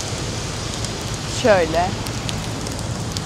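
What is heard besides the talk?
heavy rain falling in a New York street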